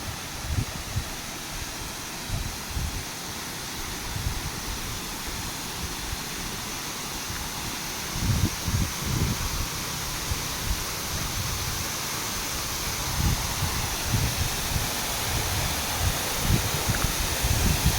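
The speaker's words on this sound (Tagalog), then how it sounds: "Busay na yan, oh." Continuous broadband rushing water of a nearby waterfall, steady and full, with occasional low thumps and no voices.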